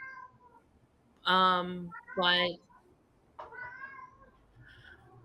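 A house cat meows twice, loud and close, then gives two fainter, shorter meows, with a quiet voice briefly heard between them.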